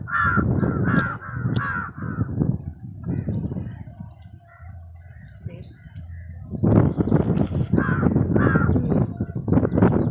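Crows caw loudly and repeatedly near Kireedom bridge at Punjakkari, harsh calls coming in clustered bursts close by, with a quieter gap in the middle before a fresh volley.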